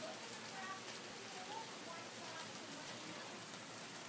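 Steady rain falls during a rainstorm, a soft, even hiss of drops on surfaces heard faintly and continuously without any break.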